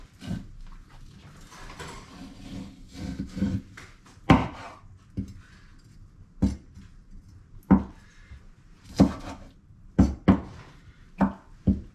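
Knife chopping through fish on a cutting board during home cooking after a Sydney Harbour catch, with sharp irregular thuds, some single and some in quick pairs, close and fairly loud against a quiet background.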